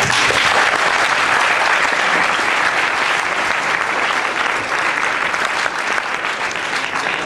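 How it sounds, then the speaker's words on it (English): Sustained, dense applause from the audience at a public debate on the existence of God: many hands clapping in a steady, loud wash that continues evenly for several seconds, with no speech over it. "So once again, I'd like to give a round of applause."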